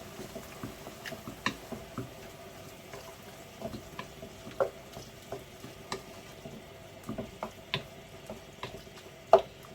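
Sloppy joe mixture seasoned with black pepper being stirred in a pan, with a soft sizzle running underneath and scattered light scraping and clicking taps at an irregular pace, close and moderately quiet.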